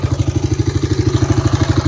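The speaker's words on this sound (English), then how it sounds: "Here's the bike. We got it idling." A motorcycle engine idling with a steady, even chug after its fuel tank was patched with JB Weld metal repair, loud and close with a regular pulsing rhythm and no talking.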